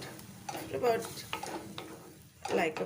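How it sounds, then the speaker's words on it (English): Masala for rajma fries in a pan with a splash of water added, a soft sizzle under repeated scraping stirs and a few clinks of a spoon on metal. It stays fairly quiet and close, with no talk. "I'll add a little bit of water so that the masalas don't burn. Okay. And then now let it fry nicely"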